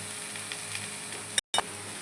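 Eggplant and tomato fry in a pan for a Bengali chorchori, a steady soft sizzle with a few faint stirring clicks and a brief silent gap.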